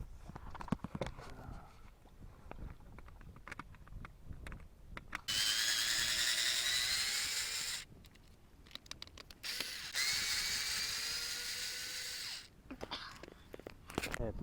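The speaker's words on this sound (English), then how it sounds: "Une drill." A power drill unscrewing screws from old wooden planks of a 1750-type plank aboiteau whirs in two long, loud bursts, its pitch rising and settling, with clattering handling noises and scraping between them.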